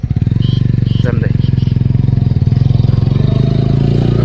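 A motorcycle is ridden over a rough, difficult hill road, its engine thudding in a fast, even pulse that rises slightly as the ride goes on. It is close and loud, with a voice speaking over it.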